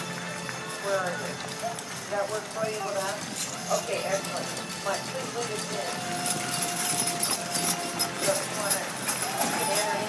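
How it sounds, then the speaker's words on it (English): Percheron horses trotting at a show, hooves clip-clopping steadily at moderate distance beneath an announcer's amplified voice and general arena noise. "Trot your horses"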